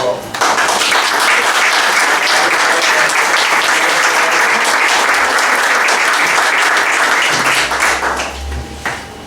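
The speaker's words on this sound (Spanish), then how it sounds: "Un aplauso." An audience at a cultural event in Elche, Spain, breaks into loud, dense applause that starts abruptly, holds strong, then tapers, with a few low thumps near the end.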